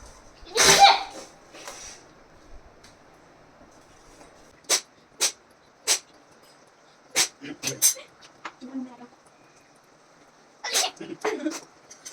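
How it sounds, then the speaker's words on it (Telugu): Sharp sneezes burst out one after another in a home kitchen, set off by the pungent smell of garam masala in an omelette curry, with quiet talk in between. "ఆ ఘాటుకి తుమ్ములు వచ్చేస్తున్నాయి నాకు"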